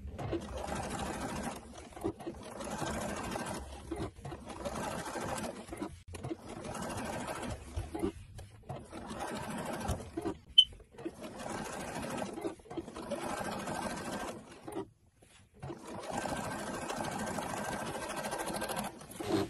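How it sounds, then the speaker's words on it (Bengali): A sewing machine runs top stitching along the neckline of a burqa for a 12-year-old girl. The steady mechanical whirr comes in long bursts separated by short pauses, close and fairly loud. "এভাবে করে পুরো অংশটিতে টপ স্টিচ বসিয়ে নিলে গলাটি ফ্ল্যাট হয়ে নিচের দিকে বসে যাবে।"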